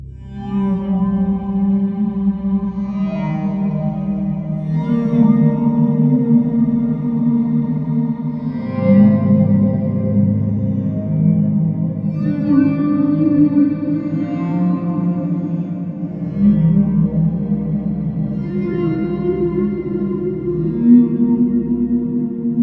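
A Soundpaint Aquatic Harp synth program called Creatures of the Deep plays sustained, harmonically rich tones, swelling and shifting in pitch with heavy echo and reverb, loud and unbroken with no talking.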